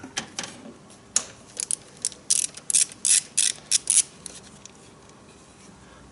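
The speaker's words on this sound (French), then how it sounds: "tu as une petite écrou à défaire. Juste là, c'est du 10 et tu défais" Ratchet wrench undoing a 10 mm nut on a car's ignition coil, a quick series of close, sharp metallic clicks in short bursts, with quieter handling before and after.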